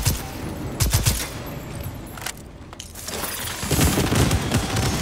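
Loud bursts of gunfire in the shooter game Second Extinction, with rapid overlapping volleys at the start, a short lull, then renewed sustained firing up close.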